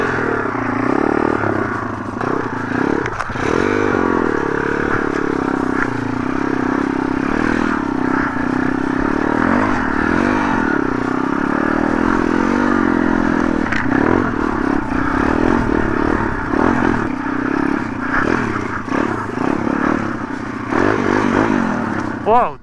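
A MRF 140 RC car drives over rough ground with climbs, its small motor buzzing and whining steadily up close, mixed with scraping and clattering as it bounces across the uneven surface.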